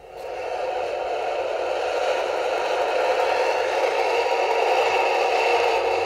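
A Bachmann diecast NYC Hudson model steam locomotive lets off a steady, continuous blowdown hiss, a broad sustained rush of air that holds level for several seconds without pause.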